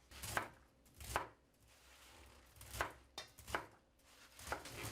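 A knife chops the hard ends off native mustard greens for kimchi, giving about six sharp, close strikes on a cutting board in an irregular rhythm with quiet gaps between them.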